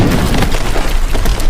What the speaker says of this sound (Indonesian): Satu langkah yang salah memicu ledakan yang besar.